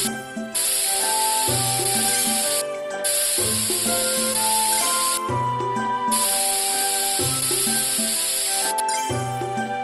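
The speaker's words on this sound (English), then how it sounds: "Use the air spray to clean off the dirt." A video-game air spray blasts dirt off a vehicle in a repair play scene, heard as loud sustained hissing bursts alternating with bright cartoon music, near and continuous.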